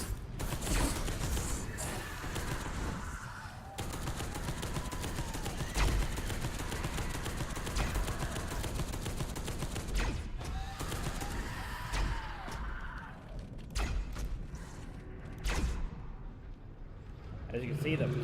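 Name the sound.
plasma cannon firing in a video game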